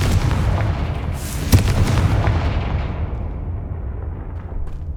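In the video game Hogwarts Legacy, a Confringo spell sets off a loud, booming explosion with a sharp crack near the start, followed by a rumbling blast that gradually fades into a lingering low tail.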